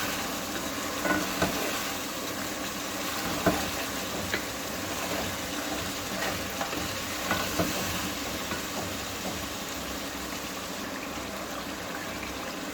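Mutton pieces are stirred with gosht masala in a hot pan, a steady low sizzle under soft scraping and occasional utensil knocks against the metal, close and even throughout without speech.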